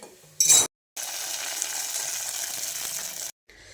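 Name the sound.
hot tempering (tadka) of garlic and Kashmiri chili poured into khichdi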